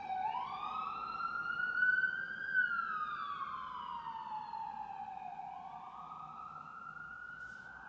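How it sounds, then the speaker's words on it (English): A police siren wails outside, its rising and falling tone sweeping up and down over several seconds at a moderate distance, with a low background hum beneath it. "I always say it's the acting police whenever I hear a siren."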